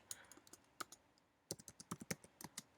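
Typing a text message on a Mac keyboard, with soft close key clicks in a short burst, a brief pause, then a quicker run of taps, quiet and alone.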